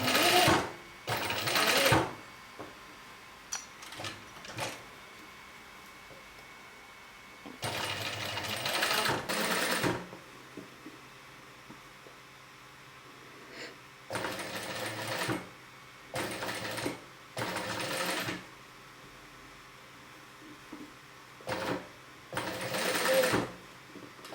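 A sewing machine stitches bias binding onto a neckline in several close, loud bursts of rapid mechanical whirring, separated by quiet pauses.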